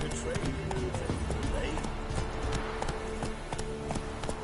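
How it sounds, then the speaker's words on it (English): Horse hooves clip-clopping at a run in the video game Witcher 3, a steady rapid thudding rhythm carried through the clip with a voice talking over it. "Run, Roach."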